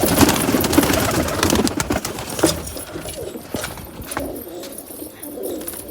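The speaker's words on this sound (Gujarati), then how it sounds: "આ બધા કબૂતરો બહાર આવી ગયા છે" Pigeons released from their loft boxes coo and flutter nearby, with a dense, continuous wash of bird calls and rustling that thins out toward the end.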